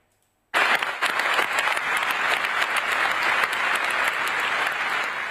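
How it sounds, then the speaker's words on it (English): Delegates at the COP28 climate summit's final plenary session in Dubai break into sustained applause, starting abruptly after a brief silence and continuing loud and dense throughout. "delegates breaking out in applause after the COP28 president announced the agreement at the summit's final plenary session"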